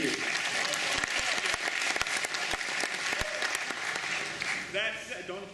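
Applause from a live audience rings out steadily and loudly, with sharp individual claps standing out and a few voices underneath, fading slightly toward the end.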